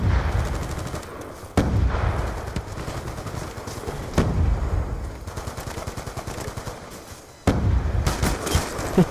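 Rapid automatic gunfire in Call of Duty Black Ops II, dense bursts of loud shots running nearly nonstop with several sharper heavy reports standing out, close and without talk.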